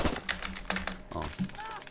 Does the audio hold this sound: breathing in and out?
no